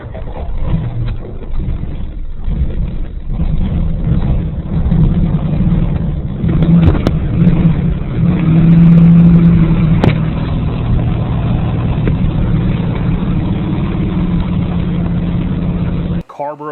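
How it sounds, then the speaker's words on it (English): Engine of a grandfather's old 1966 car idling steadily in Germany, a continuous low rumble with a brief swell in revs, running under someone talking throughout. "pretty much the car just started right up"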